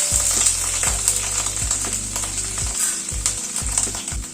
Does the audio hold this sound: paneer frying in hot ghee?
yes